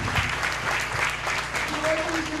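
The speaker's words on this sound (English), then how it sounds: "I would, ask everyone to, give a round of applause for" Audience applause at an entrepreneurship summit talk on LGBT rights, a loud, dense burst of clapping from a crowd with a voice talking over it partway through.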